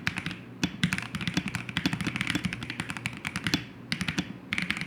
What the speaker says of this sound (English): Even if someone were to, let's say, poorly prepare a keyboard ASMR video, I think it would still sound pretty great.